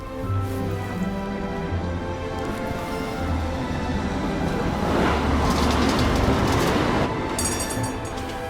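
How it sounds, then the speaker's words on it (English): Tram arriving in the video game Syberia: The World Before, with a steady mechanical rumble, droning tonal hum and rising rattle and squeal of wheels as it pulls in. "But here's our tram."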